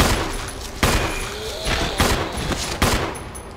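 Pistol fired at an enemy in Resident Evil HD Remaster, four sharp loud shots spaced about a second apart, each with a short echoing tail over a dark ambient bed.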